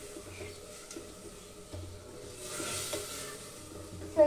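Mint leaves frying and being stirred in a pan while egg biryani is prepared, a soft, steady sizzle with scraping stir sounds at close range, growing a little louder toward the end.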